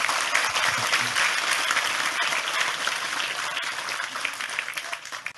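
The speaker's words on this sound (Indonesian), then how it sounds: "Sekali lagi tepuk tangan lebih keras untuk Tejo." Loud, steady applause from an audience at an Indonesian talk event, continuous clapping filling the room for several seconds before easing slightly at the end.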